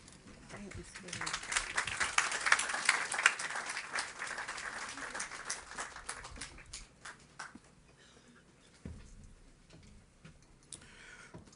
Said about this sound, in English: Let's give them another round of applause for such bravery and eloquence